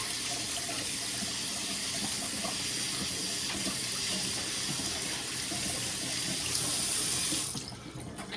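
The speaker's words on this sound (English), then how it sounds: "Wash my hands because they're all greasy now." Running tap water pours steadily into a sink while greasy hands are washed beneath it, a close, continuous rushing hiss that cuts off abruptly near the end.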